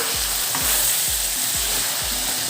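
Local chicken pieces fry in a pan and get stirred, a loud continuous sizzle broken by regular thumping spatula strokes, about five evenly spaced scrapes with no talking.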